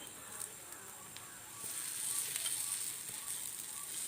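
Palm fruit paniyaram batter fries in a pan with a soft, steady hissing sizzle that grows slightly louder midway, with faint clicks of the pan being handled.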